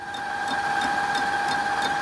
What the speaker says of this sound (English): So we're back over on the milling machine now, and you can see the machine's running